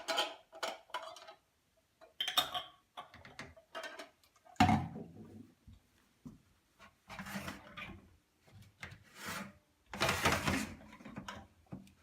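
Metal screw caps being twisted and tightened onto jars of hot zucchini chips, heard as a series of close scraping, rubbing and ticking bursts with brief pauses between them and no talking.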